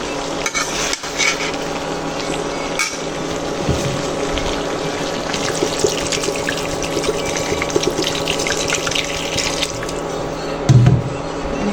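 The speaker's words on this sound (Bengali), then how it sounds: "পানি দিয়ে দিচ্ছি হতে থাক আস্তে আস্তে" Water pours steadily into a pot of potato and stinging catfish curry, a close, continuous rushing splash over faint bubbling, ending with a short clatter.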